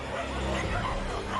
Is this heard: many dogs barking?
yes